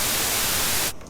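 A burst of loud, steady white noise hiss from a Korg ES1 sampler fills about a second, then cuts off abruptly to near silence with a faint tail.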